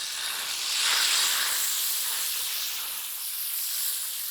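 Rice flour ghavan batter sizzles on a hot griddle over a high flame, a steady, bright hiss that swells slightly near the start, then holds at an even level with no voices.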